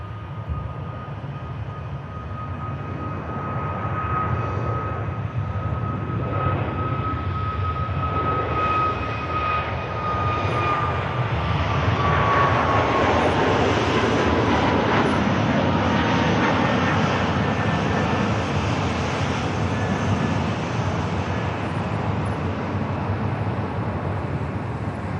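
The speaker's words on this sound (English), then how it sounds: "here is that Ryanair for Bratislava" A Ryanair Boeing 737 MAX 8200 jet departing Manchester for Bratislava, its engines rising to a loud, close, rumbling roar with a whining tone that sweeps downward as it passes, then fading into a broad sustained rush.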